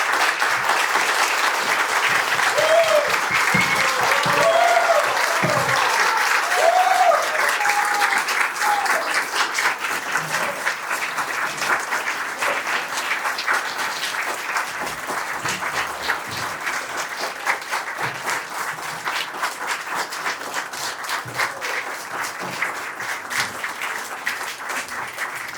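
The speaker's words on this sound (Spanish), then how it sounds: "antes de que Marta nos diera su conferencia, nos pusiéramos de pie y le aplaudiéramos su gestión y le agradeciéramos su trabajo en el Ministerio." A conference audience on its feet applauding a speaker on agrarian reform, steady dense clapping that stays loud and continuous throughout, a little fuller at the start and easing slightly toward the end, with no talking.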